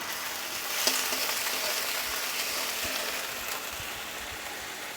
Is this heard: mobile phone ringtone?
no